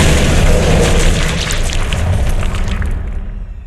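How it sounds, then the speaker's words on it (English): A huge, loud explosion in the Dragon Age: Origins video game, a sustained booming roar that fills the whole clip and slowly fades toward the end. "that's just a huge explosion in my ears"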